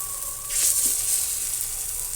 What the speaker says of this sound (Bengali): ছোট ছোট করে ভেজে নেব বড়াগুলো ছোট ছোট করে ভাজবো